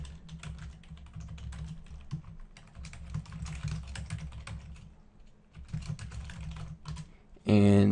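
Computer keyboard keys clatter in quick irregular bursts while a player types into Minecraft chat, fairly close and steady, ending in a short loud burst.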